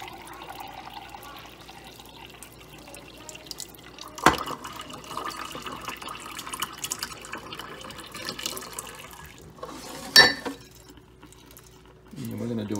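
Kangen water splashes and trickles into a glass in a few short bursts, with clinks and handling noise between pours.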